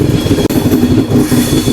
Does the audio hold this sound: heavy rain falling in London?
no